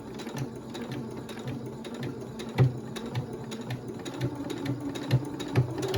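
A sewing machine stitches a fabric tote bag strap, giving a steady, close mechanical whir with rhythmic needle clicks and a few louder knocks, heard alone with no talking.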